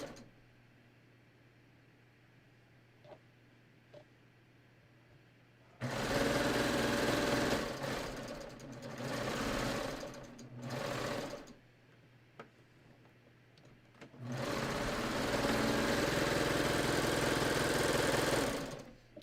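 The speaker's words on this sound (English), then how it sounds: "I'm just sewing my side seam of the side that I already put that little sleeve on." A sewing machine runs a side seam on a raglan sleeve top in two long, close whirring bursts separated by quieter pauses with light ticks, the first burst briefly easing and resuming.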